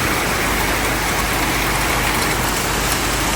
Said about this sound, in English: I'm just waiting for the rain to stop.